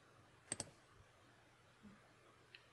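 Two quick mouse clicks close together, crisp and near, followed by a single faint click a couple of seconds later, over quiet room hiss.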